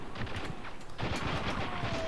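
Shotgun gunfire in Spec Ops: The Line, several muffled distant blasts in quick succession over a low background rumble, fairly quiet.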